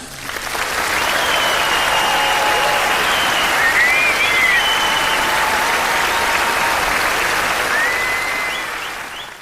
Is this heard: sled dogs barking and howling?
no